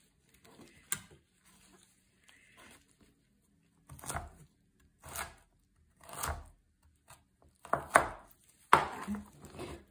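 A knife cuts through fresh artichokes in a run of separate crisp cuts and thuds. The cuts come at an uneven pace with short pauses between them, and the last few are louder and closer.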